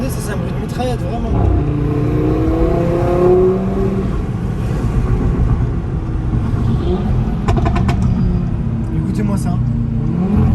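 A close RS3 car engine revs and rumbles in Dubai while someone talks over it, with bursts of rapid, machine-gun-like exhaust crackling pops between revs.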